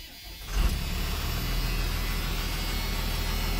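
A 5.9 Cummins diesel engine in a Class A RV on a Freightliner XC chassis cranks and catches after a short quiet moment, then settles into a loud, steady, close rumbling idle.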